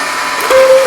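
An electronic craft cutting machine runs close by with a steady mechanical whir and hum, briefly louder midway through a short stretch.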